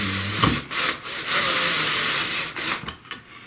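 A power driver whirs in short bursts as screws go partway into the housing of a Kirby Sentria vacuum, several brief close whines separated by pauses, with no voices.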